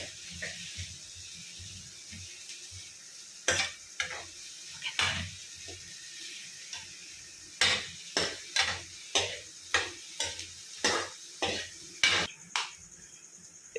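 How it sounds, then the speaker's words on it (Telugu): Carrots stir-fried with onions in a pan for egg noodles, a low sizzle broken by a rapid, regular series of sharp spatula scrapes and clacks against the pan, close and without talk. "ఉల్లిపాయలు వేగాయి కదా, క్యారెట్ వేసుకుందాం."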